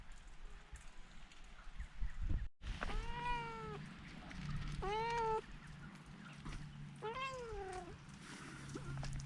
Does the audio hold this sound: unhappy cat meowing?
yes